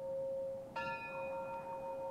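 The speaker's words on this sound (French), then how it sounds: "chaque pèlerin sonne la cloche en arrivant au sommet" A pilgrim strikes a bell at a mountain summit shrine in Sri Lanka, a single clear ring that rises over a steady tonal drone and then hangs with a long, bright sustaining hum, close and fairly loud.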